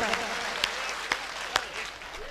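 A crowd claps steadily at a patriotic poetry recital by a poet, a moderate wash of applause with a few sharper individual claps standing out and a voice faintly underneath.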